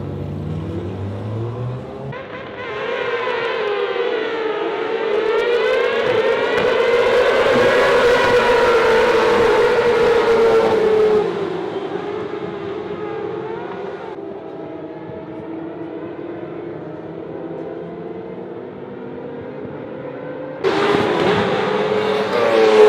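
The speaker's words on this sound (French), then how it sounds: "J'ai du sidecar là, c'est assez impressionnant." Loud sidecar racing motorcycles roar past in a sustained wave at a French Superbike championship race meeting, pitch sweeping as machines pass, fading to a steady drone, then another burst of engine noise at the end.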